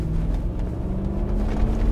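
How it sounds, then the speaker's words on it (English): Toyota LandCruiser 100 Series V8 engine runs at a steady low drone while driving, with a constant deep hum and road rumble heard from inside the cabin. "Now, engine-wise, this is the V8,"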